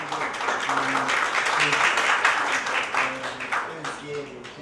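A seated audience at a hospital talk on chemotherapy gives warm applause, a dense patter of clapping running for several seconds under and around a speaking voice.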